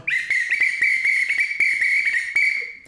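A loud, piercing wooden whistle holds one steady high tone, with short clicks and bursts breaking through underneath, sustained and close.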